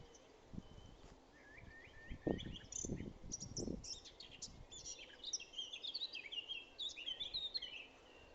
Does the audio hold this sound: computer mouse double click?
no